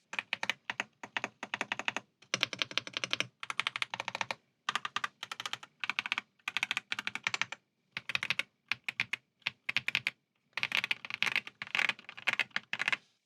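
Typing on an Aula F75 Max mechanical keyboard, quick bursts of clacky keystrokes separated by short pauses, close but fairly soft, with no voices.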